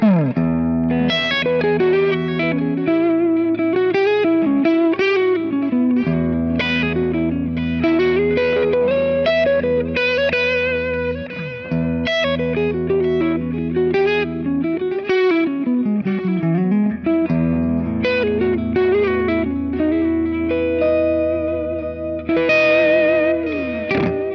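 Electric guitar through a Kemper profile of a Dr. Z amp (Z-Lux 2) with a full, effected tone, playing melodic lines and chords steadily for the whole stretch, loud and close.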